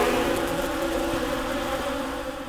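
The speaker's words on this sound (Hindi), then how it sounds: "मक्खियों का झुंड उन पर झपटा" A swarm of bees buzzes in a dense, continuous drone as a dramatized audio-story effect, steady and loud throughout with no voices.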